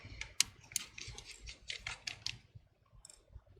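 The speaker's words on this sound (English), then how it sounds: "Remove the two screws" Small screws being backed out of a bracket inside a MacBook Pro A1706 with a T3 screwdriver, a close run of faint, sharp metallic clicks and ticks in an irregular rhythm, with no talking.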